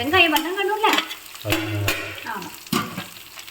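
Onions sauté in plenty of oil for a chutney, with bursts of frying sizzle and spoon stirring, while people talk over much of it.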